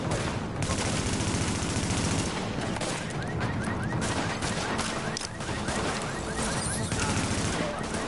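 Heavy continuous gunfire in The Division, rapid automatic bursts overlapping into a loud fusillade throughout, with voices talking underneath the shooting.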